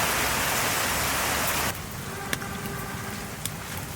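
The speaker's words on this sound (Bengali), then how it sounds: "থামগে থামগে বৃষ্টি আসতে লাগবে" Rain falls in a heavy, hissing burst that suddenly eases to a lighter patter, with a few sharp drips and knocks afterward.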